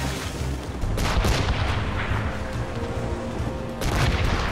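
Heavy cannon fire and explosions boom through a naval battle in Assassin's Creed Rogue, a dense, continuous roar of blasts with sharper bursts standing out near the start and end.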